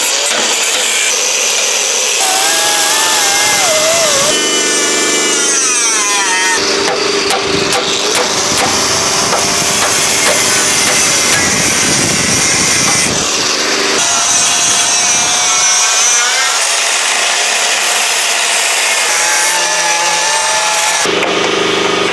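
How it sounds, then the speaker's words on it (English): A die grinder grinding down cab mount welds on a truck frame, a loud continuous high-pitched whine that rises and dips in tone as the bit bites into the metal, steady and close throughout with no talking. "We're going to use a die grinder so we can get inside of here"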